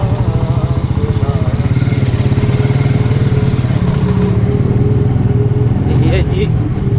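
A motorcycle ridden with one hand on the bars while the rider holds a camera, its engine a steady, close, pulsing drone that runs unbroken the whole time.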